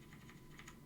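Typing on the mechanical keyboard of an Amiga 2000 fitted with Cherry MX switches, a quick run of faint, close keystroke clicks with no voices.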